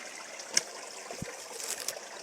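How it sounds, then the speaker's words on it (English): Water of a small stream flowing outdoors, a soft continuous trickle and babble with faint splashes, heard alone at low volume. "You hear that water flow?"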